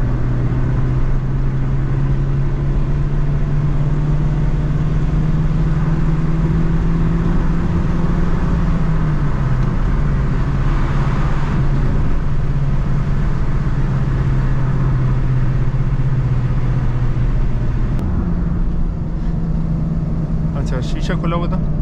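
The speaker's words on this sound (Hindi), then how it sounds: "जैसे अभी इसको मैं थोड़ा सा रेस दे रहा हूँ" A 2006 Honda City's engine hums steadily from inside the cabin with a window open, its pitch rising gently with light revving and then dropping twice, while someone talks over it the whole time.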